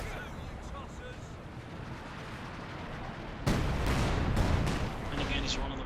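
Artillery fire in the real-time strategy game Company of Heroes 2: after a low battlefield rumble, a heavy blast hits abruptly and is followed by dense rumbling impacts and crackling, with a voice commentating over it.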